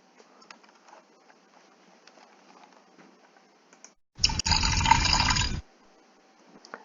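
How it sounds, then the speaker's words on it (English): Bromine water is poured into an alkane during a chemistry test: a quiet room, then a loud, dense splash of liquid lasting just over a second before it settles back to quiet. "What happens when you add bromine water to an alkane?"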